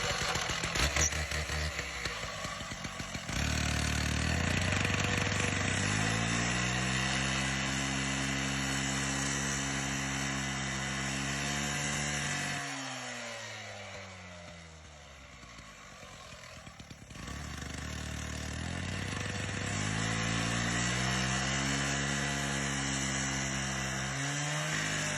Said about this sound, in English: We'll run it down each side and see if it pops off easier.